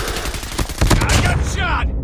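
Gunfire in the mobile shooter game Call of Duty Mobile, a loud, close run of rapid shots packed into a couple of seconds.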